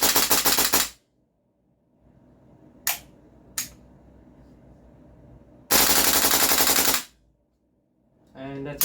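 Tokyo Marui AKX airsoft rifle fires full-auto bursts, a rapid mechanical rattle cut into several strings with quiet gaps and a couple of single clicks between, close and loud.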